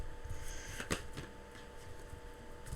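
A deck of tarot cards is shuffled close up in a few soft riffling bursts, quiet and crisp, with a faint steady hum behind.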